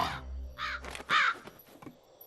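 A crow caws loudly several times in quick succession, harsh rasping calls close by, with a low hum underneath and no speech.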